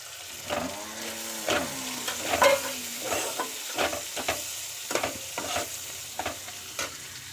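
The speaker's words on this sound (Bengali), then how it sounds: "এবার ক্যাপসিকাম আর পেঁয়াজগুলো দিয়ে দেবো বড় বড়" Large chunks of capsicum and onion tossed into a pan with already-fried onion for chilli chicken, sizzling steadily while a spatula scrapes and stirs in repeated close strokes.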